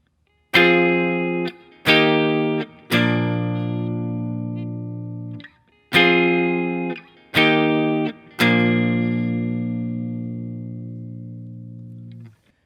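An electric guitar plays a song's chord progression: six strummed chords in two matching groups of three, each ringing out and fading before the next, with no accompaniment.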